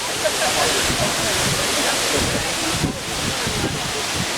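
Wli Waterfalls in Ghana's Volta Region: a steady, dense roar of falling water with wind buffeting the microphone, loud and close, continuous throughout.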